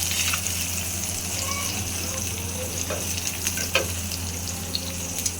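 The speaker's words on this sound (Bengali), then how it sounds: "কাঁকরোল ভাজা করছি সকালের খাবার হিসেবে, একদম সিম্পল।" Teasel gourd (kakrol) slices frying in a pan for breakfast give a steady soft sizzle over a low hum, with faint clinks and a splash of running water, some muffled background voices.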